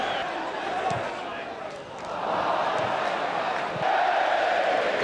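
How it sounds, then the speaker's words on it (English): A football stadium crowd roars and cheers at a 1992/93 West Ham v Sunderland match, a broad sustained swell that dips briefly and then rises again, under steady match commentary. "Cheers of the crowd. The crowd are really enjoying this now."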